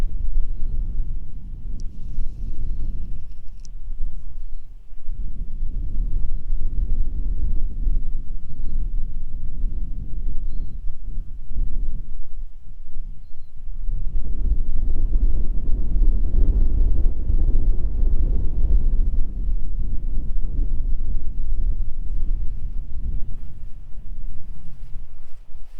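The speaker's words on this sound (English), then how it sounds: "That wind's really picking up." Strong wind roaring and buffeting the microphone in long, heavy gusts, swelling loudly, briefly easing, then surging again, with no voices.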